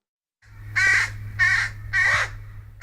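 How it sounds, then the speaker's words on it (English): Three harsh caws from young crows ring out in a steady rhythm, loud and close, with a low hum underneath. "All these young crows,"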